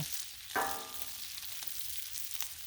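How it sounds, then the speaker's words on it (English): Bacon sizzles on a Blackstone flat-top griddle, with a steady hiss and a sharp pop near the start, then a few fainter crackles as the fat keeps spitting. "look at it popping. Literally, like popcorn bacon."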